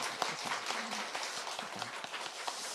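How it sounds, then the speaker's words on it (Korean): A church congregation at a Sunday service claps for the youth group, a steady dense wash of applause from many hands, fairly distant and even throughout. "우리가 청년들을 위해서 큰 격려와 위로 박수 드렸으면 좋겠습니다"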